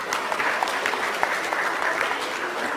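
An audience at an academic lecture breaks into clapping: dense, steady applause from many hands that stays loud and even throughout, with no pauses.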